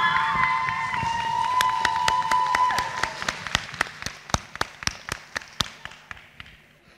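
A talent show audience's applause fades out as sharp, rhythmic claps take over, keeping a steady beat in unison.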